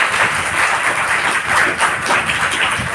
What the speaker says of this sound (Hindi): बजाओ एक बार ताली अच्छी है